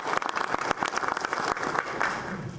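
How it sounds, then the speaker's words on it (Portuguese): A round of applause fills a Senate session honouring the volunteer firefighters of Joinville, given for a substitute senator: dense, steady clapping from a crowd, loud and continuous throughout. "uma salva de palmas à suplente senadora Dona Ivete"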